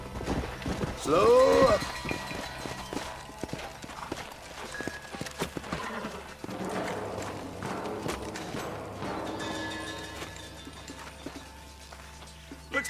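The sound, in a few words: horses trotting, from the video game Red Dead Redemption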